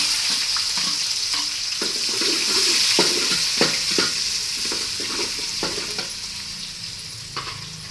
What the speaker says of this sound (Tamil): நம்ம ரெண்டு வெங்காயம் கட் பண்ணி வச்சுக்கிறோம் அதை சேர்த்துக்கிறாங்க